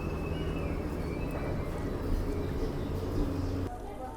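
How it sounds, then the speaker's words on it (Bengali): A train pulling out of a station at Thakurnagar, heard as a steady low rumble of rolling wagons that fills the clip, with faint station noise on top, until a sudden cut near the end. "আর এই ট্রেনটাও এখন বেরিয়ে যাচ্ছে"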